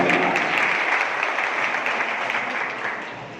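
A village panchayat general assembly in Channanwal bursts into applause, the dense, loud clapping holding steady and fading slightly toward the end with no voices over it.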